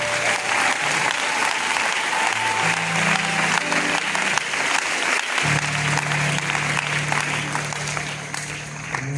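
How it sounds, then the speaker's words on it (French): A church congregation at an evangelization centre applauds its choir, steady dense clapping sustained throughout, with held keyboard or organ notes sounding underneath. "On peut aussi acclamer pour notre chorale"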